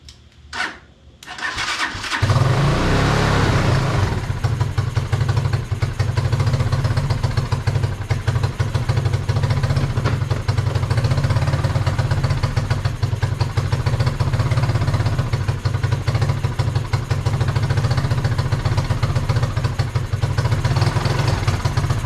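A Tayo Tayo four-wheeler engine running only on its carburetor, catching after a few brief cranks and then holding a loud, steady, low idle drone with no talk.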